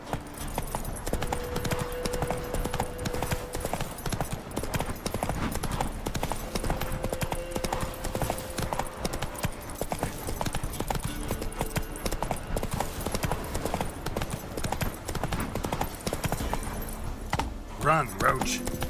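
A horse galloping in the video game Witcher 3, steady fast hoofbeats with jingling tack close up throughout, and a brief whinny near the end while someone speaks over it.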